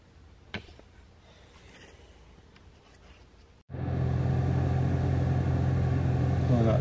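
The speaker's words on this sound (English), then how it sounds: "Pulling out the driveway, headed to a Corvette Club meeting." A car pulls out of a driveway, heard from inside the cabin: a quiet stretch with a single knock, then a sudden switch to a steady, loud engine and road rumble that holds to the end.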